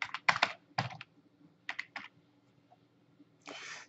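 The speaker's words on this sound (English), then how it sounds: "in the component toolbar search box type stepper" Quick bursts of keystrokes on a computer keyboard, a few short clusters of close clicks separated by pauses, ending in a softer rustle, with no talking.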